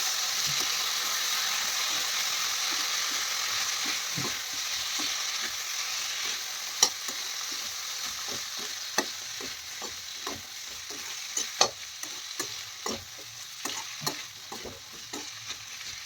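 Washed mixed vegetables fry in a pan with a steady, close sizzle while a spoon stirs them in irregular scraping clicks and knocks, with no talk.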